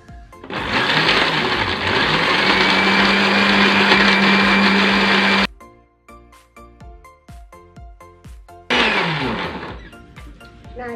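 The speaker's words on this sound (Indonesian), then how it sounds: "Jika sudah, kita mulai blender." An electric blender grinds chopped lemongrass for a natural shampoo, a loud steady whirring drone that stops midway, leaving quieter background music, then roars back on near the end.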